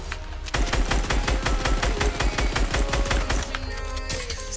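Rapid automatic gunfire in the video game Fortnite rattles off in a fast, even string of loud, close shots, preceded by a brief quiet moment and followed by a final crack.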